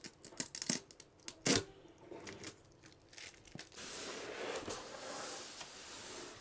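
Sticky masking tape that has been stuck down for over a month is pulled off a campervan vinyl floor. A few sharp crackles and snaps come first, then a longer, steady ripping peel, close by and fairly quiet.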